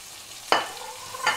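Carrots and mixed vegetables for fried vermicelli get stirred in a frying pan, two distinct spatula scrapes cutting through a steady close sizzle, with no talking.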